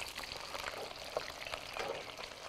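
Ginger and onion fry in hot oil in a home kitchen, an early step in making chili oil for a cold pork-face dish. A steady, close sizzle hisses throughout with small crackling pops and no talking.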